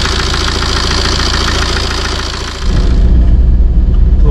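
A Tata Safari Storme's diesel engine runs at idle with a steady low throb and mechanical chatter, then abruptly shifts to a deeper, louder rumble partway through, with no one speaking.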